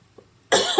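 A single sharp human cough bursts out after near silence, loud and close, trailing into a brief throaty rasp at the end.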